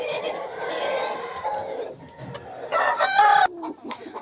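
Hens, including silver Cochin chickens, cluck busily nearby while a rooster crows loudly partway through, a lively mix of poultry calls with no talking.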